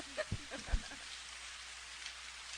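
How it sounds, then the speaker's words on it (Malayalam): Steady rain falls during an Onam stage program, a fairly faint, even hiss with a couple of soft low thumps near the start. "മഴ ദേ വന്നു."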